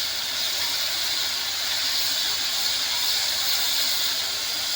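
Garlic paste sizzles in hot oil in a pan while a katla fish kalia is being cooked, giving a loud, steady, close hiss that runs unbroken throughout with no voices.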